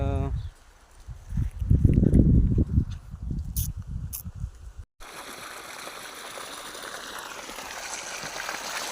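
A voice speaks briefly, then steady broadband rushing irrigation water takes over, flowing continuously through a farm field and fairly close for the rest of the clip.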